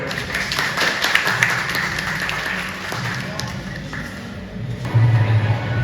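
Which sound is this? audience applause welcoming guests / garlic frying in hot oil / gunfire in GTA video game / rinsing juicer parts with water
audience applause welcoming guests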